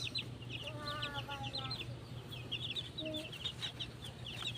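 One-month-old chicks peep and cheep in a steady busy stream close by, over a constant low hum, with a short higher tonal call partway through.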